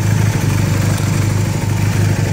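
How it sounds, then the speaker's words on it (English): A Honda CB250N motorcycle engine idles after starting, a loud, close, steady low thrumming with a fine regular pulse and no other sounds. "let's fire the bike up"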